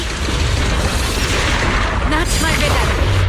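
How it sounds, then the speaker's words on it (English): Explosions in the video game Zenless Zone Zero boom and rumble continuously and loudly, layered with dense mechanical game effects. "Move in during the gaps between explosions."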